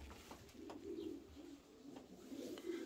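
Pigeons cooing in a loft compartment: soft repeated low coos in a steady rhythm over quiet background rustle, fairly faint and close.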